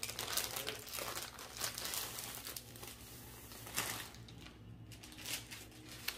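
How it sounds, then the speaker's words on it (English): Soft crinkling of a plastic sleeve as a craft product is pulled out of it during an unboxing, quiet and close with continuous rustling and small crunches. "We'll pull her out of the sleeve."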